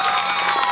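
Young school participants get a dense crowd roar of cheering and shouting at a public event, loud and sustained with bright excited voices and no clear separate claps.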